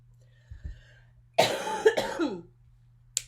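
A few harsh coughs in a row, close and fairly loud, with a couple of small throat sounds before them and quiet between.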